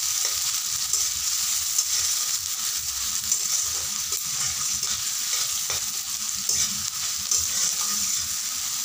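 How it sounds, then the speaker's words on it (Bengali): Chopped onions fry steadily in a hot pan for an egg curry, a dense, continuous sizzle with faint stirring scrapes throughout, close and fairly loud with no talking. "পেঁয়াজগুলোকে আমি একটু লাল লাল করে ভেজে নিব।"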